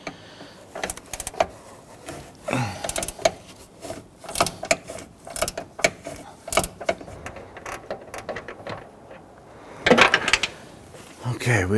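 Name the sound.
pivoting gear wrench ratcheting a control arm nut loose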